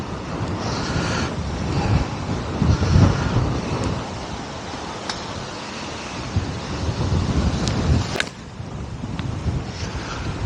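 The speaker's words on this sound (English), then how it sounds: "That wind's just got up." Strong wind gusts across an open golf course, roaring and buffeting against the microphone in swelling waves that rise and ease over a continuous rush.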